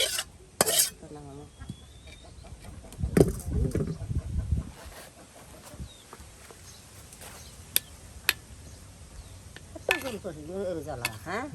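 Young jute leaves stir-fried in a pan over a low village fire, with scraping, stirring clatter and soft sizzling in bursts, several sharp utensil knocks and brief clicks across the clip.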